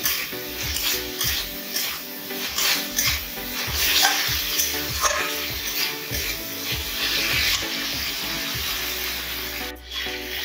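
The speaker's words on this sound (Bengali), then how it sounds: "পেঁয়াজ এবং আদা রসুন একসাথে কষিয়ে নেবো" Onion, ginger and garlic sauté together in a pan for a Bengali goat meat curry, with a continuous crackling sizzle and repeated scraping stir strokes close by. No one speaks.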